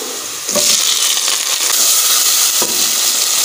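Chopped tomatoes tipped onto browned onions in a hot pan, bursting into a loud broadband sizzle that starts suddenly and holds steady, with a brief extra crackle partway through.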